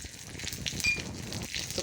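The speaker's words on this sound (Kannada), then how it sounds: "ಒಗ್ಗರಣೆಗೆ ಒಂದು ಬಾಣಲಿ ತೊಗೊಂಡು ತುಪ್ಪ ಹಾಕ್ಕೊಂಡಿದ್ದೀನಿ. ಸಾಸಿವೆ, ಜೀರಿಗೆ, ಮೆಣಸು ಹಾಕ್ಕೊಳ್ತೀನಿ." Mustard seeds, cumin and pepper hit hot ghee in a pan for a tempering, giving a brief, close crackling sizzle with small pops.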